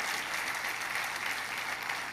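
Congregation applauding in a church service after the worship team's music, a soft, distant, steady patter of many hands clapping.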